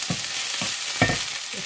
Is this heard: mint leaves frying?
yes